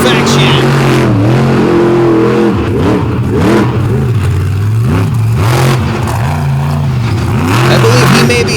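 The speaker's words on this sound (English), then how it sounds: "As Tweedy works the whole pulling track here to perfection." A loud outlaw monster truck engine revs hard on a drag pulling track, its pitch swooping up and down repeatedly as the truck works the course, with an announcer talking over it.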